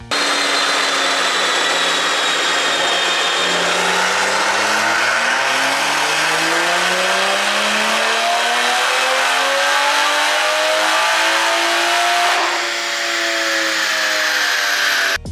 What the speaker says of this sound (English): I took the Supra to the dyno to see what numbers we start with